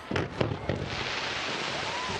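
Fireworks go off over the Vieux Port in Marseille during the Olympic flame arrival, a few sharp distant bursts followed by a crackling wash of crowd and city noise.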